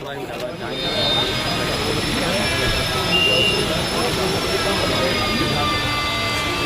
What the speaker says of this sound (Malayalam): രാഷ്ട്രപതിയെ വഹിച്ചുകൊണ്ടുള്ള ഹെലികോപ്റ്റർ വന്നിറങ്ങുന്നത്